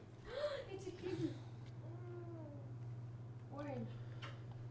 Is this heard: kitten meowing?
yes